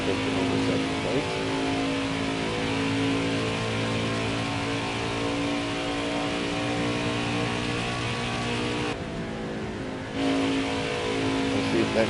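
NASCAR Cup Series race cars at Las Vegas roar in a steady, dense engine drone with sustained revving harmonics, a brief dip near the end before the pack sound swells back, with faint commentary underneath.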